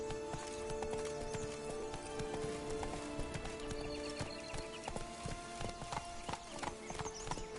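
Geralt's horse Roach gallops in The Witcher 3: Blood and Wine, hooves clip-clopping in a fast, continuous rhythm, close and clear, with no talking.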